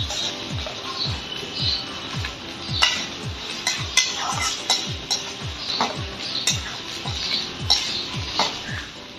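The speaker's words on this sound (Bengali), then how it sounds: "তো আদাটা ভালো করে কষিয়ে নিব" Ginger-garlic paste sizzles in a pan while a spatula scrapes and stirs in a quick repeating rhythm, metal clinks riding over a constant close frying hiss.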